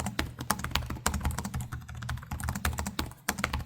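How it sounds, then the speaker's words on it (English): Rapid, even clicking of keys on an Acer Triton 14 (2025) laptop keyboard, a steady stream of crisp close-up keystrokes with no voices. "They're pretty clicky and nice and uniform."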